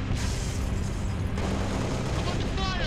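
Gunfire and explosions from Halo Reach, a dense continuous low rumble of booms and shots, loud and close, with game dialogue speaking over it.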